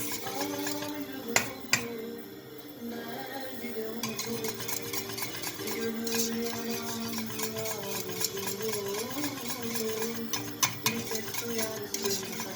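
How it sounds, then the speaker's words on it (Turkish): Pudding starting to bubble in a pot while being stirred: a steady low scraping of the spoon against the pot with soft bubbling underneath and a few light clinks, fairly quiet and continuous. "Pudinkimiz göbek atmaya başladı yavaş yavaş"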